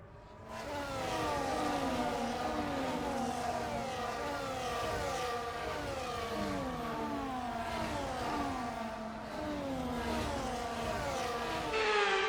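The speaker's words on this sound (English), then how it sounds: "The formation lap gets underway" Several F1 24 race cars idle and rev together on the formation lap of a video game race in China, a steady layered engine whine with shifting pitch that stays loud throughout and has no voices over it.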